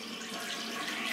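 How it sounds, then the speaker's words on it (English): A domestic tap fitted with a flow restrictor runs water, giving a steady aerated hiss and splash into a sink, close and continuous with no talk. "this is one where we do have a flow restrictor, and it does actually actively restrict the flow of water"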